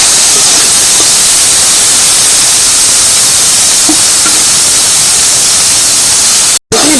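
Brinjal frying with potatoes in hot oil gives a loud, dense, continuous hiss and sizzle that holds constant and close throughout, with a few faint clicks and a sudden brief dropout near the end.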